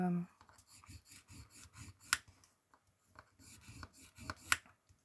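A pencil or marking tool is drawn by hand across textured card-like paper, producing a series of quiet, short scratchy strokes with a few sharper rasps, close and intimate, repeated in an uneven rhythm.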